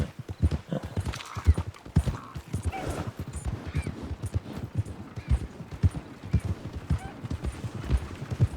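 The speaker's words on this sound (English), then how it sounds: "Let's give the horse something. You're quite a horse." Horse hooves clip-clop in a steady, close rhythm through Red Dead Redemption 2 gameplay, with a faint whinny mixed in.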